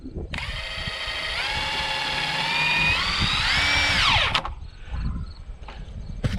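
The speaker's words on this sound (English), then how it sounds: "put some long screws in to hold this all together" A power drill drives long construction screws into log rafters on a tiny log house build, whining steadily and rising in pitch for about four seconds before stopping, followed by faint knocks and handling noise.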